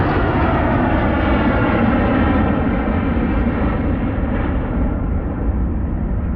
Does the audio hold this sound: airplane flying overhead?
yes